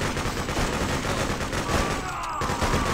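Dense, continuous gunfire in the video game Freedom Fighters, with rapid overlapping shots forming a steady battle din that stays loud throughout, with no clear pauses.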